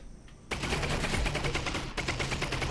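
SMG gunfire in the video game Half-Life: Alyx, a rapid automatic burst of shots, close and fairly loud, alone without talk.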